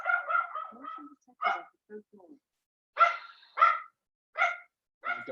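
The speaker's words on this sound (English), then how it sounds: "There's a dog." A dog barks in a series of short, sharp bursts, some yipping, at moderate distance, with brief gaps between groups of barks and no talk over them.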